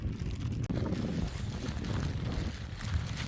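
Strong wind at the top of the Mt Aso volcanic crater buffets the microphone in a loud continuous roar with gusty surges.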